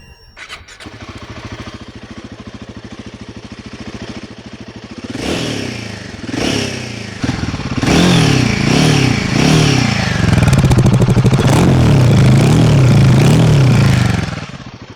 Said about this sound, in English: give you guys the opportunity to really listen to this engine and the exhaust noise it makes